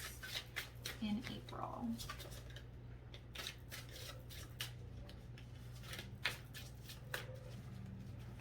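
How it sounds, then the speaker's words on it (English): Tarot deck being shuffled close by, a steady run of quick papery riffles and slaps with brief pauses, under a low hum; someone speaks briefly near the start. "I love this deck because it is so easy to shuffle."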